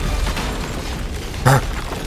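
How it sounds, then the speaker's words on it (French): A single dull boom sounds from far off, brief and muffled, rising once over a steady noisy ambient bed. "C'est alors qu'une explosion retentit au loin."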